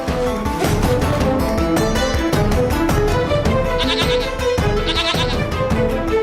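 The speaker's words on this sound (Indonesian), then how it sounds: "Kambing kayaknya mau ngasih sesuatu, Nas." A goat bleats repeatedly in loud, wavering cries close by, several calls following one another without a break and no talking over them.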